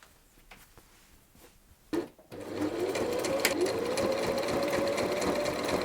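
A home sewing machine top stitches a rectangle onto a t-shirt. Faint background sounds give way after about two seconds to a steady, continuous whirring hum that runs to the end.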